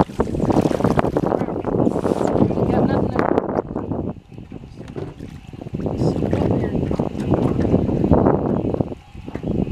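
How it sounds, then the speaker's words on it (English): Strong wind buffets the microphone almost continuously at night on the water while fishing, with brief lulls, and a voice talks over the blustery roar. "it's a little windy"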